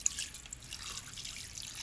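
Water pours steadily into a bowl of meat soaking in white vinegar, a faint continuous trickle and splash with no voices.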